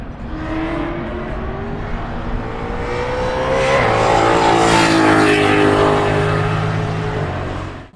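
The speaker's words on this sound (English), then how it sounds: "Listen to this supercharger." The supercharged engine of a Ford Mustang GT4 race car roars loud and close at Oulton Park during a British GT race, its rising pitch building as the car accelerates past, with other cars audible around it.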